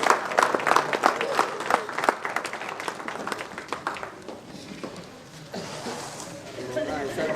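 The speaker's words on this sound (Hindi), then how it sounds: "जोरदार तालियों से इस्तेमाल होना चाहिए" Applause from the audience at a comic poetry mushaira in Gurmitkal, with crisp claps that thin out and fade midway, then a softer crowd wash with some voices over it.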